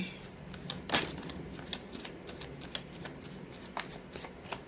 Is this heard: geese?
no